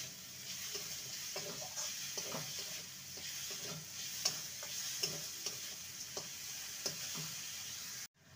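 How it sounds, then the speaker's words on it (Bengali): Sugar being stirred as it melts in a pan, heard as steady scraping and soft sizzling with irregular light taps from the spoon, close and moderately quiet, with no talk. "ভালো করে চিনিটাকে মেল্ট করে নেব।"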